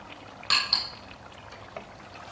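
Yogurt is poured into a chicken biryani korma in a cooking pot. A short wet splat and a metallic clink from the spoon or pot come close together, followed by a faint trailing clatter over a low kitchen hiss.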